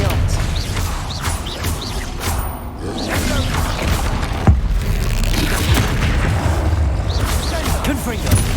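Bombarda and Confringo spell explosions from the video game Hogwarts Legacy boom in rapid succession over a busy battle mix, heavy low thumps and crashes with a voice shouting throughout.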